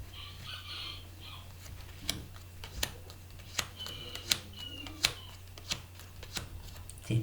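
Playing cards being cut and shuffled for a card reading, a series of crisp riffling snaps and slaps spaced about a second apart over a steady low hum, close and clear.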